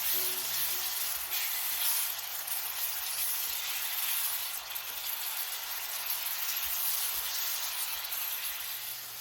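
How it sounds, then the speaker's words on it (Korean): Squid gambas with red and cheongyang chili peppers stir-fried in a hot pan, giving a steady, loud, continuous sizzle with faint stirring scrapes throughout and no talk. "홍고추, 청양고추 넣고 볶아 마무리해주세요."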